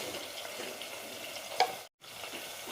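Spice powders (turmeric, roasted coriander and chili powder) roasting in hot oil for a bottle gourd masala curry, a steady close sizzle with faint stirring, briefly cut off near the end.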